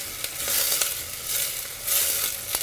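Steady sizzle of onion frying in a pan, with crackles and small pops, close and moderately loud, with no voices.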